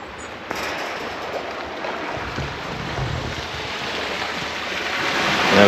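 The River Trent Aegir tidal bore approaches as a broad, rushing wash of water with wind, building steadily louder toward the end.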